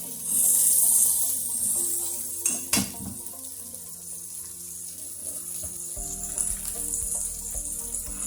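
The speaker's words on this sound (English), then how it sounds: "After doing the onions for a little bit, and getting them all coated with the oil" Onions sautéing in oil for home hibachi: a bright, steady sizzle that is loudest at first, then fades under clinking metal utensils and pan scrapes, with no voices.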